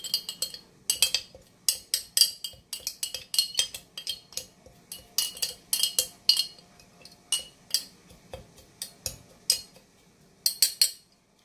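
A spoon scrapes and clinks repeatedly against a container while scooping coconut oil, giving a rapid series of close, sharp metallic taps and scrapes with short pauses between them.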